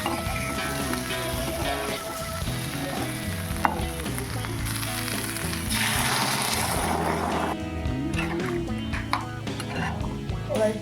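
Vegetables sizzling in a pan as water goes in, a steady loud frying hiss with stirring and clinks throughout, the texture shifting partway as the liquid hits the hot oil.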